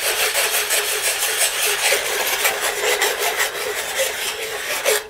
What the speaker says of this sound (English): to clean it up, I'll just use a little piece of sandpaper on a sanding block.